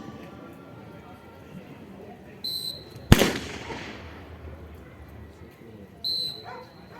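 A CISF drill team fires rifles from kneeling and line positions at a Republic Day display in a stadium; one sharp loud gunshot cracks out over a murmuring crowd, with fainter shots or whistles on either side.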